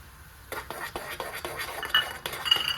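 Rice flour dough for modak being stirred in a pot after boiling water: repeated scraping and clinking of a spoon against metal, moderately close, with soft background noise.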